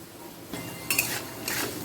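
A spoon stirring turmeric, cumin and salt into potatoes in a pan while cooking chickpea dal, with a few scraping and clinking strokes against the pan over a low kitchen background.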